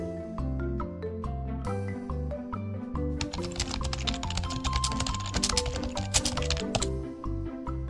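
Computer keys clatter in quick, irregular taps under steady background music, with a denser burst of clicking in the middle as shortcut keys are pressed to copy and paste in presentation software.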